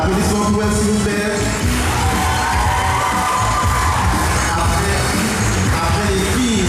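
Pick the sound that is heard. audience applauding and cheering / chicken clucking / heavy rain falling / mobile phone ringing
audience applauding and cheering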